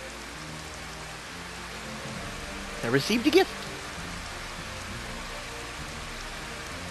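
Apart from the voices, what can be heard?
rain falling in a city in the Final Fantasy video game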